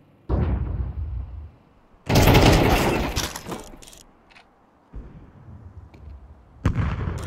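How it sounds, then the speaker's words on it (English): A flashbang grenade is thrown in Counter-Strike 2 on the Vertigo map. Loud, sharp bursts come in separate blasts, each dying away, with a big broadband bang in the middle and no talking. "Throw in the flashbang!"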